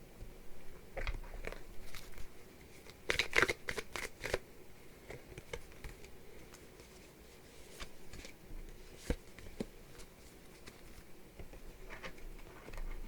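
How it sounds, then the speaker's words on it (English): Tarot cards pulled and shuffled from a deck, a close burst of rapid papery riffling early on, then sparse soft card slaps and flicks at intervals. "let's pull our cards really quick. I'm just going to pull them really fast"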